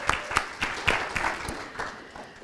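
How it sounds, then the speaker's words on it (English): Scattered, modest applause from a small audience at a community forum on climate solutions, individual claps distinct and fairly quiet, thinning out over a couple of seconds. "if we could give her a round of applause"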